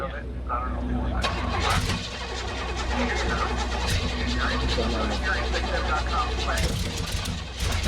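A Pontiac 455 V8 cranks and fires up, then settles into a steady, loud running rumble that fills the clip, with a brief surge near the end.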